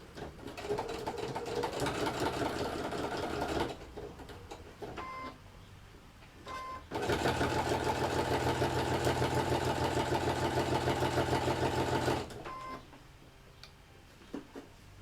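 Sewing machine stitching a fabric flip-flop carrier, running in two long steady mechanical bursts with a pause between and quieter motor hum and handling in the gaps.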